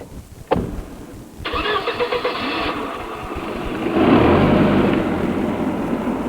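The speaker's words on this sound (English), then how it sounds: "she coolly drove right by them in the Mercedes" A Mercedes car starts up: a short click, then the engine cranks and catches, settles into a steady idle, and swells into a louder revving run as it pulls away, close by with no talking.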